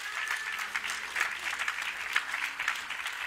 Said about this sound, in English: Come on, give him another hand.